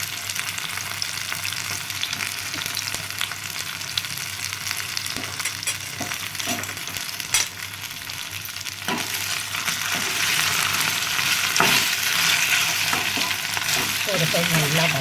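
Taro root sautés in a pan with fried curry leaves, giving a steady crackling sizzle. Occasional sharp scrapes and clicks from stirring rise slightly louder toward the end.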